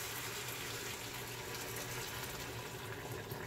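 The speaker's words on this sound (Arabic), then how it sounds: "صافي دابا غنمرقو الماء طايب" Boiling water poured over cow trotters for a traditional chickpea stew, a steady, full rushing splash of liquid running continuously and close by, with no pauses or talking.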